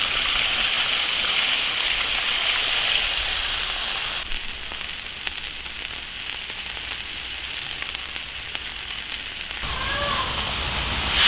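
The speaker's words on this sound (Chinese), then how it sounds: "加点水。" Water hits a hot iron wok of frying beef and chili peppers, a loud broadband hiss and sizzle that runs steadily throughout and eases slightly partway, with no talking.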